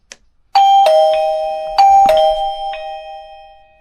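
A wireless video doorbell chime rings out two clear ding-dong tones in close succession, bright and loud with ringing decay, in an otherwise quiet room.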